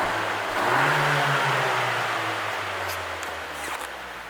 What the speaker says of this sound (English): There's a nice little snort from the exhaust on the rear.